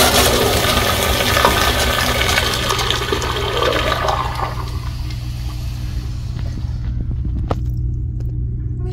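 A second-generation American Standard Jetbrook urinal flushing, a loud close rush of water that fades over several seconds into quiet trickles and drips.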